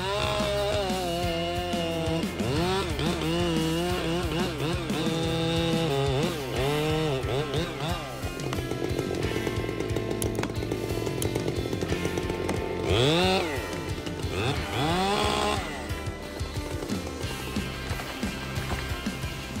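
A chainsaw roars and whines as it bites into a tree on a steep slope, revving up and down repeatedly, loud and close for the whole stretch.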